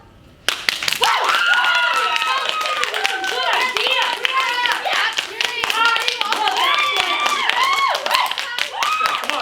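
Dense crowd of a theater audience cheering and clapping at a mock town hall, a sustained wall of excited whoops and applause that bursts in loudly and keeps going for several seconds.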